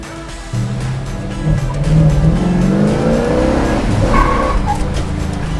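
A 1965 Pontiac 2+2 with a four-speed drives along, its loud engine rumbling steadily, rising and shifting pitch through gears with brief tire or accessory whines partway through.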